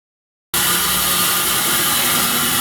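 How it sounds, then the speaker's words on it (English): A bandsaw cuts a myrtle wood bowl blank, bursting in abruptly after half a second of silence into a loud, steady, unbroken whir and rasp that holds at constant level. "let's go cut this out on the bandsaw"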